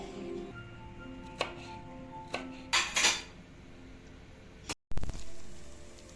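Bell peppers chopped on a cutting board for an eggplant dish, giving a few sharp knife strikes and clatters spread over several seconds, close and fairly loud over a quiet kitchen background.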